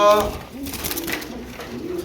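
Pigeons sold at a market coo close by in soft, repeated low rolling calls, heard alongside background voices.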